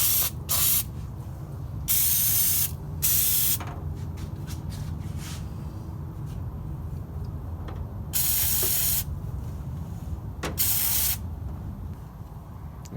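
Engine degreaser sprays in repeated bursts onto greasy parts of a 1964 Chevrolet C10 motor, with loud, close hissing blasts separated by brief pauses against a steady background rumble.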